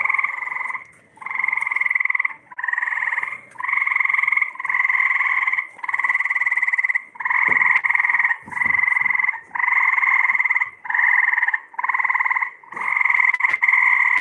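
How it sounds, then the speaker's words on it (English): Loud, steady frog croaks repeating in a rapid rhythm, a chorus of calls close by with brief gaps between each pulsing burst. "Can you believe that a frog would make a noise that loud?"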